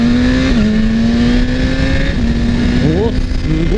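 BMW S1000RR superbike in race mode revving hard under wide-open throttle, a loud, close engine note with steady harmonics that sweep upward in sharp rises as the throttle opens, continuous throughout.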